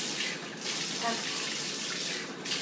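Water runs steadily from a tap while a dog is rinsed in a bath, a close, continuous hiss and splash with slight surges and a faint voice murmuring underneath.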